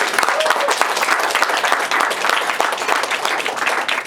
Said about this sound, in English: So guys, first of all, give a big round of applause to Dimitri and his team.